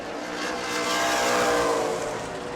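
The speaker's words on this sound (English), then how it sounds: "Laps to go for Brad Bowman as he tries to score his first World Series win in his first start" Race cars roar around the New Smyrna Speedway track during a World Series event, a loud, sustained engine drone swelling and easing slightly as the field passes close by, with no voices.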